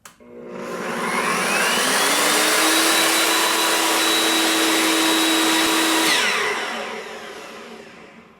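EvoMax S15 metal-cutting chop saw blade spinning up and running at speed, a loud steady high whine with rising pitch at start, holding level for several seconds before winding down; no cut is made.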